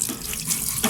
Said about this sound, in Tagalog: Gripo.